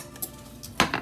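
A spoon clinks against dishes while slow cooker meals are prepared, with a few sharp metallic taps, the loudest near the end, over a quiet kitchen background.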